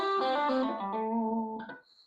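Electric guitar playing a descending pentatonic lick with hammer-ons and pull-offs across the high strings: quick legato notes flowing down into a longer held low note, moderately quiet and alone, ending with a faint string squeak.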